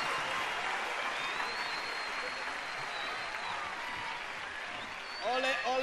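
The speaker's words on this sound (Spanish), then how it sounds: "les quiero pedir un gran aplauso de la Quinta Vergara" Distant, steady applause from a large concert crowd at the Quinta Vergara in Viña del Mar for the singer's musicians in 1994, a broad wash of clapping that holds evenly, with a voice cutting in briefly at the end.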